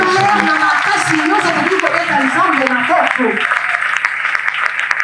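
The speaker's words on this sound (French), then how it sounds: "Est-ce qu'on peut acclamer fortement?" A church congregation at a Sunday worship service applauds and cheers loudly, a dense, sustained wash of clapping mixed with raised voices that fills the room throughout.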